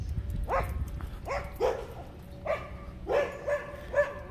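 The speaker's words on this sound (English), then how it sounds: "I think those dogs would be used to seeing other dogs around here." Several dogs bark and yip in a park along Palisades Park in Santa Monica, with sharp overlapping barks coming in bursts roughly every second over steady outdoor background noise.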